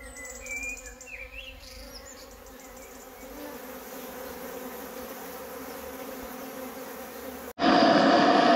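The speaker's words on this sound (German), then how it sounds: "Ein Bienenschwarm." A swarm of honeybees buzzes at the hive at an apiary, a continuous even drone held close for several seconds before a sudden louder rush of noise cuts in at the end.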